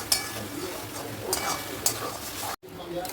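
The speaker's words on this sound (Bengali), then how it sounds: "এবার মাংসটা ভালো করে মশলার সাথে কষিয়ে নেব" Chicken is sautéed with spice powders in a pan: a low sizzle with a few crisp spoon taps against the metal, then a brief break in the sound near the end.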